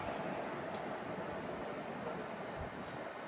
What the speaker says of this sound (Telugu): 17406 కృష్ణ ఎక్స్ప్రెస్, ఆదిలాబాద్ నుండి తిరుపతి వరకు